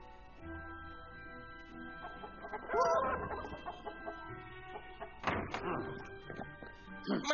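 Voices in an animated movie imitate chickens, producing bursts of clucking and fowl-like squawks mixed with thumps and taps, loud and close, alongside speech.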